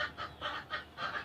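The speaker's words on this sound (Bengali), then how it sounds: "তো এই হচ্ছে আমার কবুতর, দেখতে পাচ্ছেন।" Pigeons kept on a rooftop, giving four short, soft calls in quick succession, fairly close by, with no talk.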